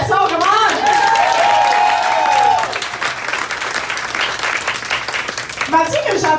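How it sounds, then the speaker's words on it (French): A crowd at a rally marking ten years since the 2012 student strike breaks into sustained applause. Loud clapping fills the space, with cheers and voices rising over it before it slowly fades. "main d'applaudissement"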